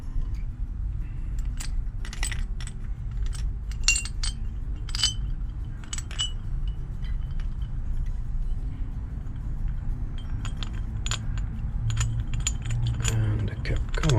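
Small metal and glass parts of a machined oil sight glass for an Archdale vertical mill clink and jingle during hand assembly, with repeated light close taps and rattles over a low steady background rumble.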